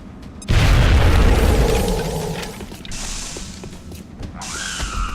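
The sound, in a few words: grenade explosion in a video game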